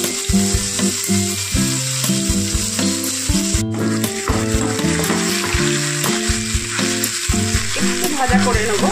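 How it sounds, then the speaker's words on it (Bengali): Fried onion and green chili sizzle loudly and steadily in a pan with cumin seeds, with stirring scrapes throughout. "একটুখানি নেড়ে চেড়ে নিয়েছি পেঁয়াজ আর কাঁচা লঙ্কাটা দিয়ে।"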